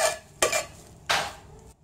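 A ladle mashing pressure-cooked rice and lentils for sweet pongal: two soft, squelching scraping strokes in a pot, close and fairly quiet, with no talking.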